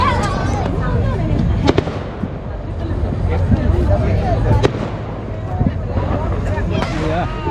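Fireworks at a July 4th celebration burst in sharp booms and crackles, several loud reports scattered over a continuous rumble, with people talking nearby.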